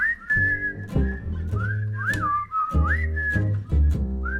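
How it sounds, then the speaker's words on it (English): Sliding whistled melody over a steady musical backing at a virtual concert, audience members whistling a tune with rising and falling swoops. "Everybody whistle. There's your whistle."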